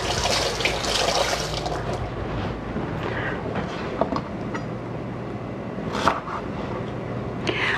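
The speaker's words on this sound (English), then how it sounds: "I'll give these guys a little wash." Green onions rinsed under a running kitchen tap, a steady rushing wash of water running throughout with a few brief splashy bursts, close and fairly loud, no talking.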